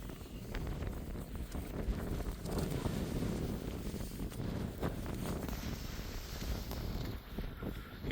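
Strong wind of about 25 to 30 blowing around a tarp shelter at a wild camp, a steady broadband roar with gusty rumbling buffeting across the microphone throughout, no voices.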